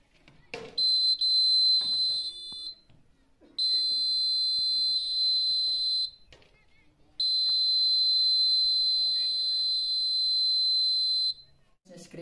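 A student-built LPG gas leak detector with an MQ6 sensor sounds its buzzer in three long, steady, piercing electronic tones separated by short gaps, loud and close, with a few speech fragments between them.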